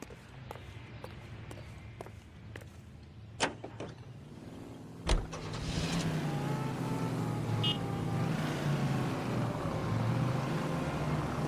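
A car engine in the L.A. Noire video game: scattered clicks and a couple of sharp door-like thumps give way to a steady, close engine hum that holds to the end.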